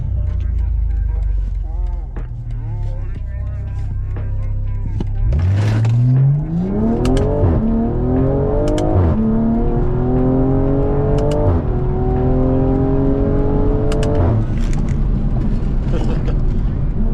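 A 500hp BMW M340i idles, then launches into a hard 0-60 pull, its engine note climbing loudly through several gear changes with brief dips between shifts, heard from inside the car.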